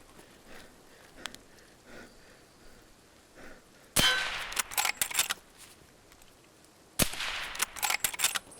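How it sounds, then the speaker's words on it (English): Sniper rifle shots in a video game, heard through 1More Triple Driver in-ear earbuds: two sharp, loud cracks with ringing tails, about three seconds apart, after a quiet stretch of faint game ambience. "Let's see what a sniper shot sounds like."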